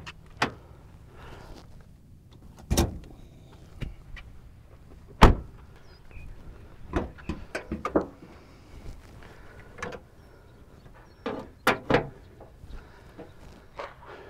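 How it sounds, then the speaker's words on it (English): Scattered mechanical clicks, thumps and latches of a 2021 Subaru Crosstrek Sport's hood being released and opened, a series of sharp separate knocks in a quiet setting. "let's first go pop the hood and check out the engine that's powering this thing"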